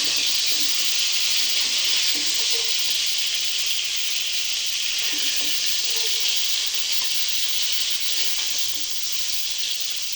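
Tilapia fish pieces frying in hot oil, a loud, steady, broadband sizzle and hiss that continues unbroken throughout, with faint soft bumps underneath.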